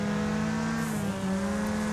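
A car engine drones steadily in an iPad racing game, a close, humming buzz that holds a near-constant pitch with a slight dip midway, and no one talks.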